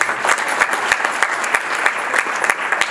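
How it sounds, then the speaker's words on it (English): Steady, loud applause from a gala crowd at an anniversary event, with sharp individual claps standing out, and no talking over it. "Give him a round of applause right here."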